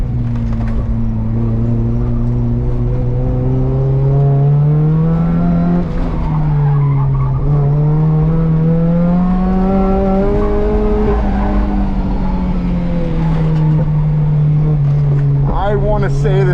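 A Volvo 740 with an upgraded sway bar driven hard on a race track, its engine droning loud and steady with rising and falling revs as it rotates through corners, tires skidding and squealing beneath.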